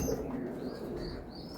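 Budapest pigeons kept in a farm loft give soft, low coos, brief and fairly faint against a quiet background.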